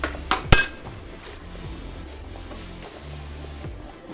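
Drumstick leaves are stirred in a cooking pot: a sharp metallic clank of utensil on pot opens, then softer scrapes and faint clinks continue under a low background hum.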